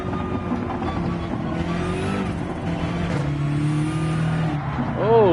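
A car accelerates on the Dragon's Trail track in Gran Turismo 7, its engine droning and rising in pitch as it pulls away. Faint tire squeal comes near the end, and a voice talks along underneath.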